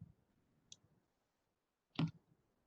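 Two crisp, isolated key clicks on a computer keyboard while a value is entered into AERSCREEN air-dispersion software, one faint and one sharper, separated by quiet.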